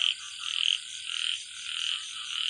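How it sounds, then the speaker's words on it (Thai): Small frogs croak at night behind a house in a continuous chorus of quick, pulsing calls, moderately close, with no voices. "เสียงเขียด"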